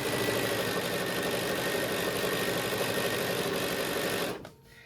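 Sewing machine stitching zipper tape onto a Christmas pillow, a loud continuous close whir for about four seconds that stops abruptly, no talk.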